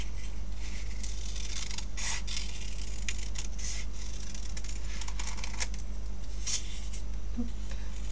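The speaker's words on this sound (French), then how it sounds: "Et là, on fait la petite découpe." Scissors snipping through paper while cutting out a small paper angel silhouette, with a series of quick, close crisp snips and rubs in an irregular rhythm over a low steady hum.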